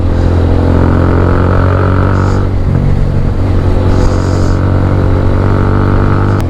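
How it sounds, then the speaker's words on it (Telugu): Several motorcycles ride by together, a TVS Apache RTR 200, BMW 310 GS and Benelli 502 TRK, on a Sunday group ride: a loud, steady engine drone with low hum and rising revs throughout. "ఇప్పుడు బైక్స్ వచ్చేసి నాది Apache, BMW 310 GS and వెనెల్లి 502 TRK."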